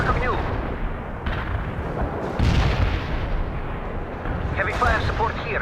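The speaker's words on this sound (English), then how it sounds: "Artillery strike on the way." An artillery strike in the World in Conflict video game lands as a loud, continuous, rumbling barrage of heavy blasts and crackling bursts, with faint voices mixed in beneath the roar.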